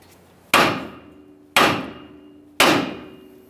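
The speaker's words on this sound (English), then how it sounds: "I'm going to lightly tap on this area with a hammer." Three sharp metallic hammer taps on the steel steering knuckle of a 2015-2020 Ford F-150, evenly spaced about a second apart, each ringing briefly before fading; close and fairly loud.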